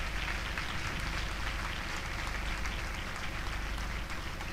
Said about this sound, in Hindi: कृपया ताली बजाकर इनका स्वागत करें।